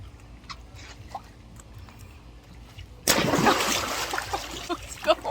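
Quiet background sounds, then a sudden loud splash as a person jumps into water, followed by churning and splattering.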